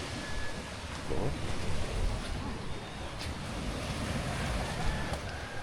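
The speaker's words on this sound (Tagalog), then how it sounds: "Ito yung dagat ng Nasugbu" Steady wash of sea surf rolling in at Nasugbu, Batangas, broad and continuous, with some wind noise over it.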